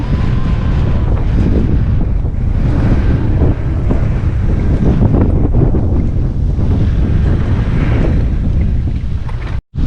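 Strong, cold wind roars continuously against the microphone on a high ride overlooking the Pacific Ocean in Dingalan, Aurora, loud and gusty, with a broad rushing sound like open water nearby and no talking.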